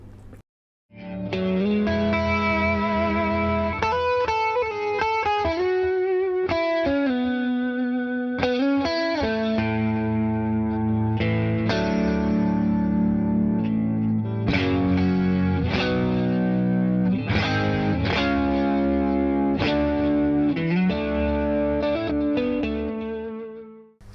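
An Eternal JWO-1 electric guitar is played through effects, with distorted, chorus-laden chords and notes ringing in a loud, sustained passage.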